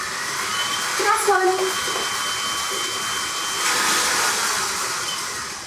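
Electric mixer whirring steadily through caramel apple cupcake batter as eggs are beaten in, a loud constant motor hum, with a brief spoken remark over it.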